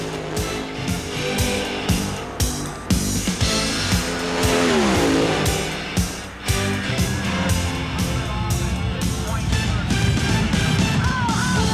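A fast race car on a short track roars loudly and continuously, its engine revving hard with repeated tire squeals and skids, close and dominant throughout.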